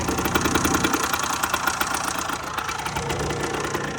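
A repaired motorbike engine, back together after piston heat cycles, runs steadily and close by with a continuous mid-range drone and faint rhythmic knocking throughout.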